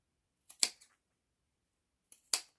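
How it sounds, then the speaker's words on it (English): Sharp scissors snip V notches into a fabric seam allowance, two crisp close cuts about two seconds apart, each a quick double snap in an otherwise quiet room. "If you haven't got pinking shears, then using a sharp pair of scissors,"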